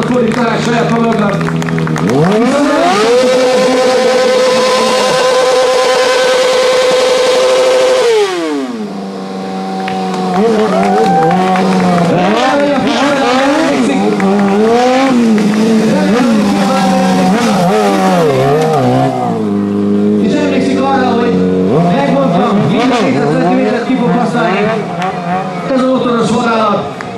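A 120-horsepower streetfighter motorcycle performing stunts at a street show, its engine revving up and down hard in long rising and falling whines, loud and close, with an announcer talking over it.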